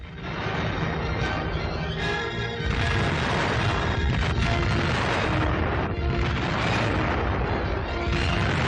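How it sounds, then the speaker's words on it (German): Bombs exploding on target in a 1942 wartime newsreel, a dense, loud, continuous barrage of booming blasts and crashing impacts layered over one another for the whole stretch. "Bombe auf Bombe trifft ihr Ziel."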